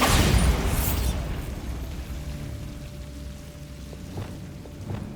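A Bombarda explosion spell in the Hogwarts Legacy video game, a loud boom at the start that rolls into a long crackling rumble and debris patter, fading over several seconds with a few small pops near the end.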